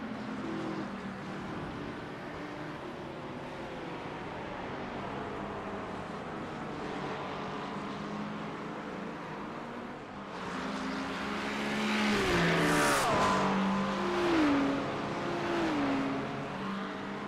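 Several GT3 race car engines roar through a sim racing championship round at Watkins Glen, with rising and falling revs that swell louder as the cars close in near the end, and no talking.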